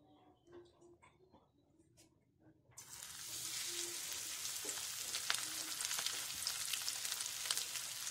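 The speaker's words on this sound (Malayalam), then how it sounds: "ഇനി നമുക്ക് എണ്ണയിലേക്ക് ഇട്ട് നന്നായിട്ടൊന്ന് ഫ്രൈ ചെയ്തെടുക്കാം." Batter-coated homemade KFC-style chicken drops into hot oil and erupts into a loud, steady sizzle after a quiet start with faint background music, the crackle continuing close and dense to the end.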